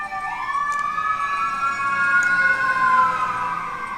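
A wailing ambulance siren passes outside, its rising and falling tones sweeping steadily for several seconds at moderate loudness with no talk over it.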